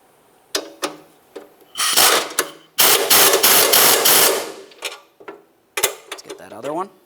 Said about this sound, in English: I'll be holding the mounting nuts with my 19mm, and I'll tighten the bolt from the other side